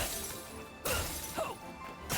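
Glass shattering from a hit in the video game Granblue Fantasy: Relink, two loud sharp smashing bursts with a brief ringing tail over steady game background noise, no talk.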